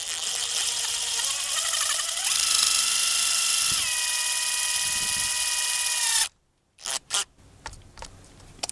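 A power drill drives small self-tapping screws into the plastic perimeter of a Toyota Avalon rear subwoofer speaker, whining steadily and rising in pitch for about six seconds before stopping, followed by a few brief clicks and handling noises.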